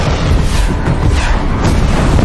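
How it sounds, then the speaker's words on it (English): Submarine missile launch effect from the film Hunter Killer: a loud, sustained roaring rumble with dense low-end noise that stays steady throughout, no voices. "Missiles are fueled and ready, sir. Fire!"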